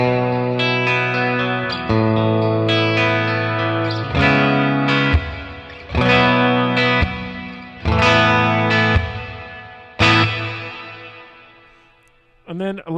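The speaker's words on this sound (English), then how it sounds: "Next is the plate reverb." Guitar played through a Red Panda Context pedal in plate reverb mode: chords and notes struck in repeated phrases, each ringing out with a smooth, dense reverb tail that decays in the pauses.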